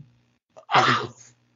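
A single loud sneeze, sharp intake then a forceful burst, heard close up against a quiet background.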